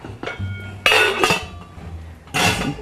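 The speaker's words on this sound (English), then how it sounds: "we're going to drain the hot water off and put them in an ice bath." Hot boiled eggs dropped into a bowl of ice cubes and water in a kitchen, giving a few sharp clinks and clatters against the bowl, close and loud, with quiet pauses between.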